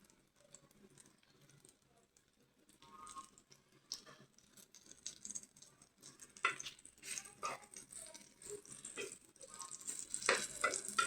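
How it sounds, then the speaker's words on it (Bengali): Eggplant frying in oil over lowered heat, a soft continuous sizzle that grows busier and louder toward the end, with occasional light stirring and pan rattles. "হালকা একটু আঁচ কমিয়ে দিয়ে বেগুন ভাজবেন"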